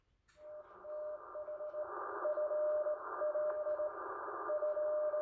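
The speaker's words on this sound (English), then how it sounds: "So that's your call in Morse code." Morse code received over HF amateur radio, a faint steady tone keyed in short and long bursts against a hissy band-noise background, with no voices.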